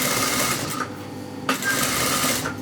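A sewing machine runs continuously while stitching a long seam in fabric, producing a close, steady mechanical whirr with faint stitch ticks and a slight catch partway through.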